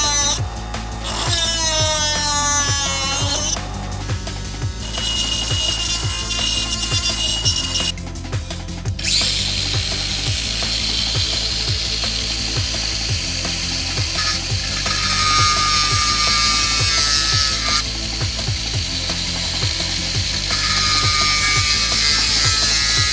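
A small angle grinder cuts along the sway bar link beside the brake caliper on a Škoda Superb Mk2 front suspension, giving a loud, continuous whining grind with shifting pitch and brief pauses.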